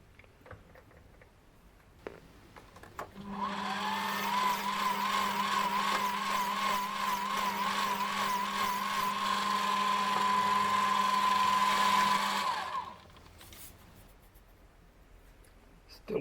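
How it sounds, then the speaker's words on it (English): A lathe turns while a steel spindle shaft for a dividing head is polished, making a steady whirring hum with a faint high whine that runs for about nine seconds before it stops. "just polishing up the shaft"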